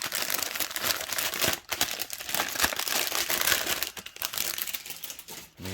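A plastic bag holding 100 ft DDBOX RGB LED light strips is handled up close, giving continuous loud crinkling and rustling with a few brief pauses.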